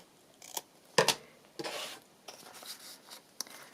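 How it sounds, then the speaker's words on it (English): Scissors snip a corner off a paper book-page pocket, giving a few short, crisp cuts spaced unevenly across a few seconds, close and fairly quiet with light paper handling between them. "I might just do the little corner snip as well."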